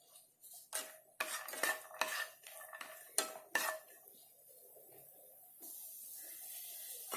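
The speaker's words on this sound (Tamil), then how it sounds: "இப்போ கொஞ்சம் நெய் விட்டுக்கலாங்க முந்திரி திராட்சை வறுக்கிறதுக்கு. முந்திரி பருப்பை வறுத்துக்கலாம்." Clanking of a utensil against a pan while cashews roast in ghee, a few sharp metallic knocks and scrapes at close range, followed by a steady soft sizzling hiss, with no talking.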